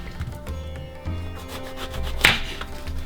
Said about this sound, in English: chop off the ends first.